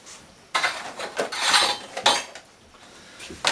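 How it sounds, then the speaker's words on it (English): Ceramic plates and a serving bowl stacked and set down in an off-grid log cabin, a run of clinks and knocks of dishes against each other and wood, close and fairly loud with no talk. "Plates go here, serving bowl goes on top of there"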